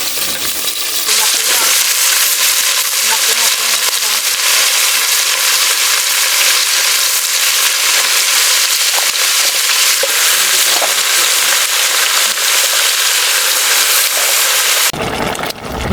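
Garlic and onion sauté in a pan in a rural Mindoro kitchen, a loud, continuous hiss and crackle of frying that runs steadily and cuts off near the end.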